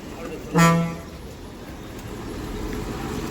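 A Madurai-bound bus at Thondi bus stand in Ramnad district sounds a short, loud horn toot as it pulls out, followed by steady engine and crowd rumble.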